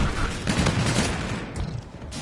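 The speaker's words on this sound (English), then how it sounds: "I shot the guy with the claw!" Claw weapon fire in Call of Duty: Infinite Warfare: dense, rapid bursts of gunshots crackle almost without pause, loud and close throughout, with no talking.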